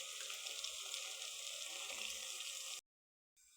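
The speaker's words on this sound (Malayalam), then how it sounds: "അപ്പം അതിലേക്ക് നമുക്ക് പോർക്കും കൂർക്കയുള്ളത് ഒരുമിച്ചിടാം." Pork and koorka (Chinese potato) tipped into a pan of sautéed onions and garlic give a soft, faint, crackling sizzle that carries steadily for under three seconds before cutting out.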